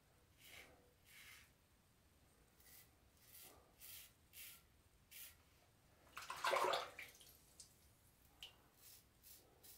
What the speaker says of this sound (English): a light touch, let the razor do all the work